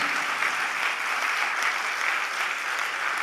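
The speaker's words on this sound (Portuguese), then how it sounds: "dê um forte aplauso ao Senhor Jesus" Sustained applause from a church congregation, steady and full, clapping continuing evenly throughout with no voices standing out.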